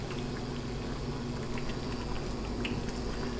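Water added to a hot pan bubbles and sizzles steadily while cooking katsudon, a close, continuous simmering hiss with scattered small pops and no talking.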